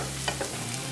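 Ginger and slit green chillies fry in a pan for a chicken chilli dish, a steady close sizzle with a couple of soft stirring scrapes, no voices.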